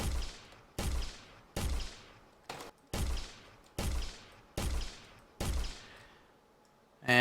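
Quake rocket launcher firing, eight heavy booming shots spaced about a second apart, each ringing off in a long decaying tail, with one shorter shot in between and another blast starting at the very end.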